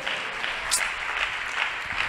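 Church congregation applauding, a dense steady patter of clapping from many hands at moderate distance, slightly swelling and easing over its short span.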